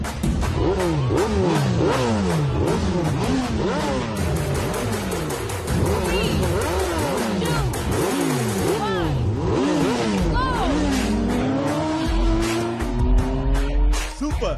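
Race cars starting a race, engines revving and whining up and down in rapid, overlapping sweeps, loud and close, with a brief spoken exclamation.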